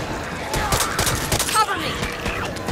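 Gunfire in the Back 4 Blood video game, with rapid repeated shots and thuds in a busy, loud exchange, with voices calling out over the shooting.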